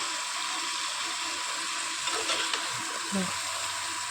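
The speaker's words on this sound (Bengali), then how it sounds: "দেখো নুন হলুদ সব পরিমাণ মতো দিয়ে দেবো, তারপরে ভেজে তুলে রাখবো" Potatoes and paneer frying in a pan with salt and turmeric for a vegetarian curry, a steady sizzle throughout with a few brief stirring scrapes near the end.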